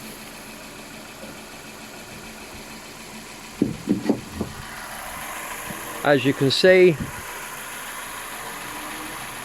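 A 1.8 petrol car engine idles in a steady low hum with the bonnet open, someone speaking briefly over it midway.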